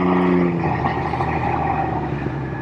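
A Can-Am Ryker three-wheeled motorcycle with a constant velocity transmission revs its engine, a loud, close, steady drone that eases off slightly toward the end of the brief burst, with no voices.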